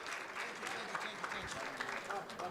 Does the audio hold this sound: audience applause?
yes